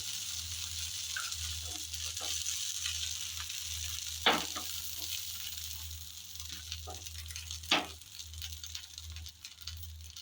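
A set dosa sizzles on a pan with ghee and oil, a continuous close hiss under a low hum, broken by a couple of louder scraping knocks and scattered small crackles.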